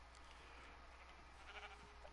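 Sheep bleating in a farming video game, a quiet, brief call or two over steady low background hum, with no talk.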